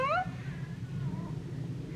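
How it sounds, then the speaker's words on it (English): Billy the cat lets out a single drawn-out meow close by, bending upward and then trailing off into a low, steady background rumble. "Here's the longest meow I've ever heard."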